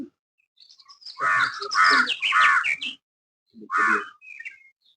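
Large crows perched in a forest tree in Kollam district give harsh cawing calls, a cluster of three close caws followed by one more after a short pause, loud against a silent background.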